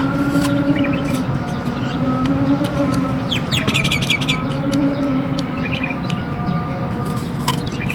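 Scattered bird chirps and tweets ring out over a steady hum of traffic and distant vehicles, the outdoor background constant throughout.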